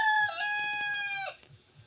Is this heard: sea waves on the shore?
no